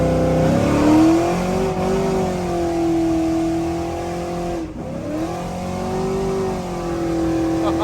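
A cammed GMC Sierra pickup accelerates hard, its V8 roaring loud and close through rising revs, dipping briefly at a shift near five seconds before climbing again.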